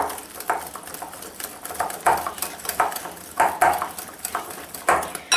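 Vanilla being mixed into eggless whole wheat sugar cookie dough, heard as rhythmic scraping and tapping of a utensil against a bowl, steady strokes up close with no talk.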